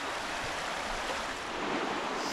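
Clear, lively Honey Creek flows in springtime near its confluence with Reed's Gap Run, a steady, close rushing of water that holds an even level throughout with no voices.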